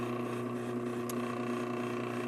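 A homemade sharpener driven by a drill press turning slowly at about 200 RPM gives a steady, even motor hum with a constant drone and no pauses, a faint tick partway through.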